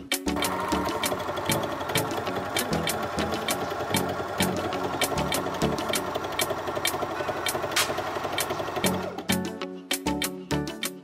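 A Janome AirThread 2000D overlock machine runs steadily while stitching a flatlock seam, giving a loud, fast mechanical whirr with rapid regular clatter that continues almost the whole time and stops just before the end.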